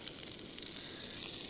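Food sizzles in a small frying pan at a wild camp in the Lake District fells, giving a steady, close, even hiss that holds without a break and with no talking.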